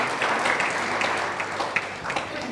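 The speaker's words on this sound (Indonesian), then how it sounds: "berikan tepuk tangan meriah buat Tuhan kita" A church congregation at a worship service applauds, a steady dense wash of clapping that holds at an even level throughout.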